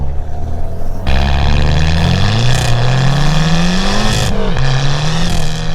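An Abarth 595's tuned exhaust in sport mode roars continuously as it accelerates, the engine note climbing through gears, loud and close.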